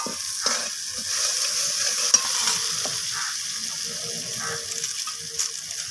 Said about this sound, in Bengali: কষাতে কষাতে মশলা থেকে তেল ছাড়তে শুরু করেছে